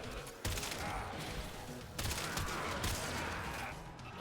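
Rapid gunfire bursts from the Warframe video game, two loud sustained volleys of automatic fire at close range, the first starting early and the second about midway, with a brief lull between.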